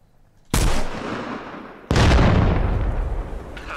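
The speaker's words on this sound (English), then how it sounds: "Just crashed, listen for explosion." A crashed Tiger vehicle explodes in the military shooter Arma Reforger, two heavy booming blasts about a second and a half apart, each loud and sudden with a long rumbling decay.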